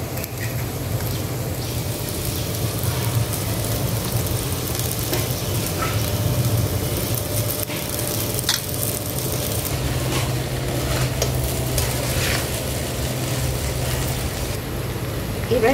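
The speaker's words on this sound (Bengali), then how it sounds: "সবজি ভাজা হয়ে গেছে, এবার এর মধ্যে আমি দিয়ে দেব সেদ্ধ করে রাখা চাউমিন" Boiled chowmein and vegetables are tossed in a wok over a clay stove on a rooftop, giving a steady, moderate sizzle with occasional scraping and stirring sounds throughout, nearby and with no talking.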